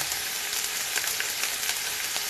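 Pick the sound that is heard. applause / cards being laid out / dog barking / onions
onions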